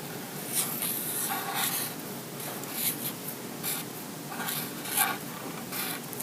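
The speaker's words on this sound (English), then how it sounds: "take your embossing pen. Like I said, I used Ranger pens, and run it along your pencil markings." Ranger embossing pen drawn along pencil markings on paper, giving a steady, close, soft scratchy rubbing with small strokes and pauses that runs throughout the whole stretch.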